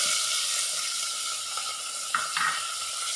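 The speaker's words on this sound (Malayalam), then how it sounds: "എണ്ണ ചൂടായി വന്നിട്ടുണ്ട് കറിവേപ്പില ഇട്ട് കൊടുത്തു വെച്ച തക്കാളി സവാള ഇതിൽ ചേർത്ത് കൊടുത്തു" Tomato, onion and curry leaves frying in hot coconut oil for a sardine curry, a steady close sizzle with a couple of brief louder crackles near the end, no voices.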